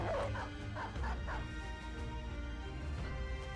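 A dog in the Battle Brothers video game gives a few short yips and whimpers early on, then a low steady game soundscape continues with no speech.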